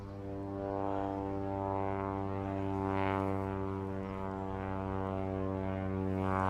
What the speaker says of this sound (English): Plane taking off from Brookhaven Town Airport nearby.